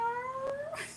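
A person imitates a cat with a single drawn-out, rising meow, clear and fairly close, heard alone in a quiet indoor setting.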